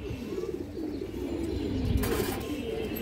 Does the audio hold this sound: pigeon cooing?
yes